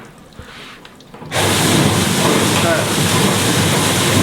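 Water from a tap at a potato chip workshop abruptly gushes on and sprays in a loud, steady rushing hiss after a quiet moment, close by, with a brief voice heard before it starts.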